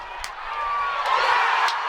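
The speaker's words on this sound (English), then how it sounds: "And the BYU crowd is on its feet" The BYU home crowd at the Varsity Cup national championship rugby match roars on its feet, a broad, steady wash of cheering that swells toward the end, with a couple of faint sharp claps.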